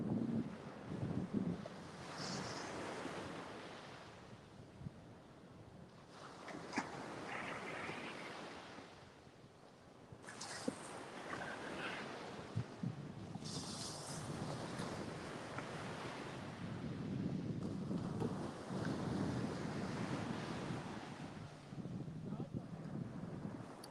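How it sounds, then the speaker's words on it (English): Surf crashing steadily on Panama City beach, a continuous broadband wash of breaking waves that rises and falls in slow surges, with some wind rumble on the microphone. "Mostly what you're hearing is just the surf crashing."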